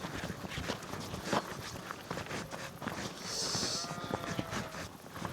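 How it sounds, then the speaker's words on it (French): Sheep at a mountain farm during milking make faint, distant bleats over soft rustling and shuffling footsteps, with a brief high ringing tone partway through. "Là, il y a une ferme à brebis. Ils sont en train de la traite des brebis."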